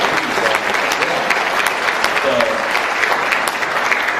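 Audience applause fills the hall at a barbershop-style chorus annual show, a dense, steady wash of many hands clapping close and loud throughout, with no pause.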